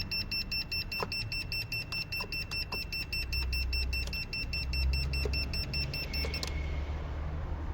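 A Vitals JS1200 jump starter clamped to a car battery in winter emits a rapid, repeating series of high electronic beeps, fairly close and steady, then stops near the end, with faint clicks and low rumbling beneath.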